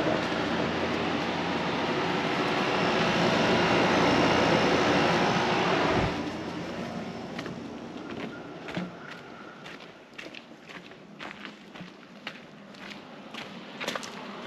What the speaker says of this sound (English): that is very hot air coming out, so you gotta vent this or it won't do anything